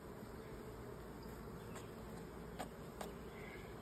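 Honey bees buzzing around a hive comb in a steady, dense drone. Faint, with brief sharper buzzes as single bees pass close.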